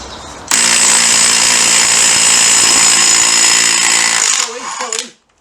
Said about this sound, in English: Sometimes you have to keep it hammering, the hammer action.